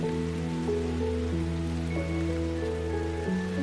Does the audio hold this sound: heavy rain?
yes